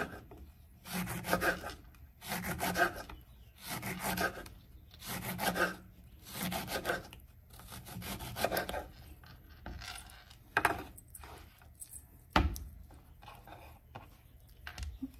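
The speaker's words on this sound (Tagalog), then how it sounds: "ang gagawin natin dito sa lemon, hiwain natin ng paganito" A knife slicing through a lemon in repeated rhythmic rasping strokes, each stroke about a second long, close and fairly loud, ending with a sharp knock against the board.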